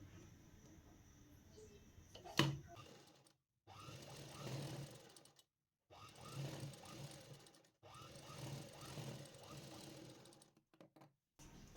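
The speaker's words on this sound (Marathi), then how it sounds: "आता पट्टीचा जो असा लांबता भाग आहे त्या भागाने आपल्याला एक फोल्ड पट्टी बनवायची आहे शिलाई मारून घ्यायची" A sewing machine stitches a folded fabric strip for piping, in several bursts of steady rapid whirring separated by brief silent pauses, close and moderately loud.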